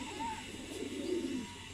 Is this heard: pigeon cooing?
yes